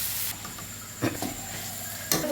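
Chopped onions frying in oil in a pan while a Madurai mutton dosa curry is cooked, a steady soft sizzle with brief stirring scrapes and clinks over it, close and moderately quiet, with no talking.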